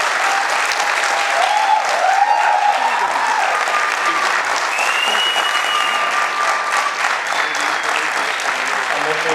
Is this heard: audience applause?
yes